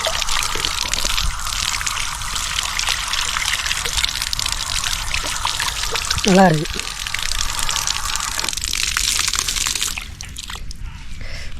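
Rainwater pouring from a pipe at a Shiva temple site, a continuous splashing gush and trickle close by, with voices talking over it.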